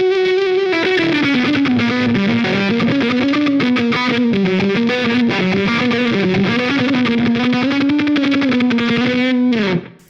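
Fuzz electric guitar through a Line 6 Helix on an Orange Rockerverb 100 preset, a thick, broken-speaker distorted tone playing a sustained wavering melodic line loud and alone before cutting off at the end.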